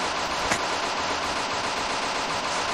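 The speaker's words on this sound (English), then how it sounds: "Gun him down!" Machine gun fire in Mount & Blade Warband with the Snow in the East mod, a dense continuous rattle of rapid shots with one sharper crack early on, loud and steady throughout.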